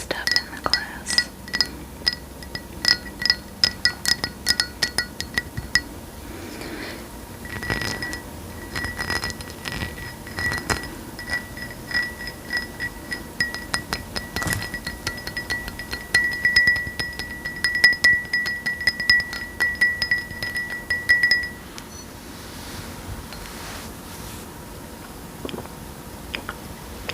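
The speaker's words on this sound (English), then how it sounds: "I wonder how it sounds with stuff in the glass." Ice and liquid clink against a champagne glass in a series of close, bright taps and rattles, dense early on, then a sustained ringing tone before trailing off, with no talking.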